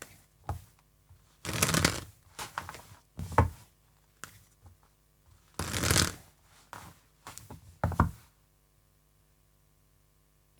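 Tarot cards being shuffled in repeated bursts of riffling and sliding, close and crisp, separated by short pauses, with no talking.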